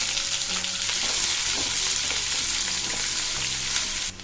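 Thinly sliced onion frying in hot oil with mustard seeds and cumin, giving a loud, dense, steady sizzle that stays close and unbroken before dropping off near the end, with no voices.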